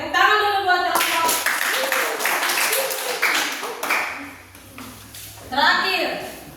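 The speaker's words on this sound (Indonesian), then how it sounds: "tepuk tangan dulu buat kelompok" Students in a classroom lesson clap for a classmates' group, a brisk burst of many small hands striking together, loud and close, with children's voices chattering before and after the clapping.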